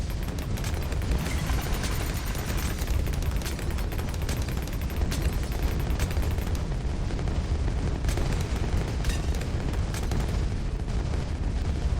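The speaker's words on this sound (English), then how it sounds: "The soothing sound of explosions" Explosions in the tower defense game Bloons TD 6, with a dense, constant barrage of booms and crackling bursts that runs loud and unbroken throughout.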